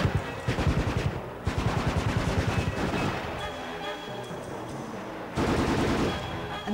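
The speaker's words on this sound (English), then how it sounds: "he's armed with a submachine gun. A chase ensues in the maze, with Number 6 ducking and diving to escape the bullets" A submachine gun fires rapid, sustained bursts, loud and dense, with a short pause and then another burst, set in a chase through a maze while the target ducks the bullets; no talking.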